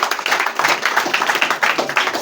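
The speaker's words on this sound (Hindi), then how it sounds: "अब ताली फिर से बजाओ" Students in a classroom clap their hands together in brisk, steady applause, a dense run of sharp claps close by and alone.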